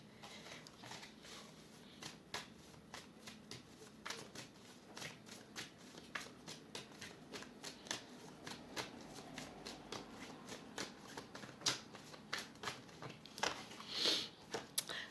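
Tarot cards are shuffled by hand close up in a quiet room, a long run of quick riffling slaps and soft flutters repeating steadily for about fifteen seconds.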